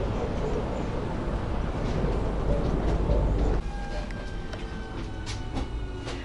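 Steady low rumble and rattle of a modern Moscow train heard from inside while riding, dropping suddenly quieter partway, with faint clicks and tones afterward.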